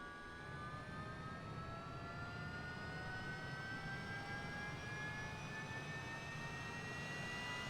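A Global Hawk jet turbine spools up in a flight simulator, a steady loud roar with high whining tones that climb slowly in pitch throughout, with no talking.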